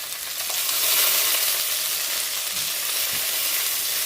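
Onions, green chilies and mint fry in a pan with a loud, steady hiss and crackle, close to the ear and unbroken, with no talking over it.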